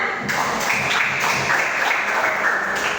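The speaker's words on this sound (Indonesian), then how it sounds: "Ya, tepuk tangan semua." Classroom applause in an Indonesian school lesson after a student's Quran recitation, a steady, moderately loud patter of clapping that holds evenly for a few seconds.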